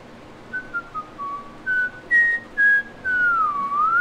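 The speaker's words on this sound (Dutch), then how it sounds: "ik fluit omdat ik vrolijk ben" A single person whistles a cheerful melody in a series of short notes that grow into longer, sliding tones, close and clear over a quiet background.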